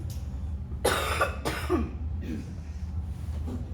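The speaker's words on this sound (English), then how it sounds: "I really am sorry that I keep coughing so much." Two harsh coughs in quick succession, followed by a softer throat-clearing rasp, close to the listener over a low steady hum.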